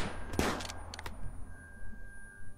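Gunfire in the RimWorld video game, a loud burst of rapid shots early on followed by a few scattered quieter cracks and faint background tones.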